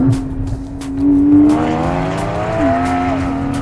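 A 3.5-litre six-cylinder sports car engine revs and accelerates nearby, its pitch climbing smoothly, dipping, then rising again with a loud, rich growl.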